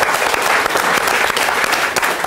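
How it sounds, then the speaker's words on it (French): A television studio audience claps loudly and continuously, a dense, even round of applause that fills the whole moment without pause. "je crois qu'on peut les applaudir."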